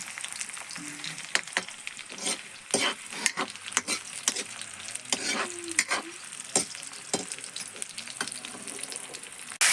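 Cumin seeds and onion frying in a pan, giving a steady close sizzle with repeated scraping and stirring clicks from a spoon against the pan, with no one talking.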